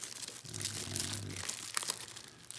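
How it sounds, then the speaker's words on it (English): An Amcrest IP4M-1051B security camera is pulled from its crinkly plastic bag, giving a close, steady rustling and crackling of plastic for a couple of seconds, with no talking. "it's in a plastic bag. Let's take that out"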